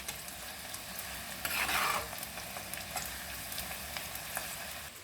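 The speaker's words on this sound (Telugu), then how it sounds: "ఇలా వేగాలి ఉల్లిపాయలు" Onions fry for a mutton kheema balls curry, a steady close sizzle in the pan with a brief louder burst of stirring partway through and no voices.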